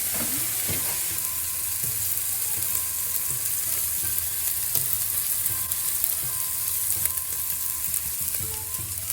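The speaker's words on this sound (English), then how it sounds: "牛肉から出る油でそのまま焼いていく感じです。" A wagyu steak sears in its own rendered beef fat, giving a steady close sizzle and crackle with faint occasional stirring or scraping knocks and no talk.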